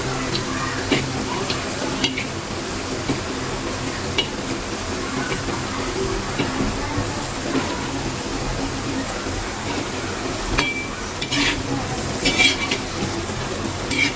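Alu vadi pieces fry in oil in a pan with steady close sizzling and crackling, a few sharp taps of utensil on pan breaking through now and then.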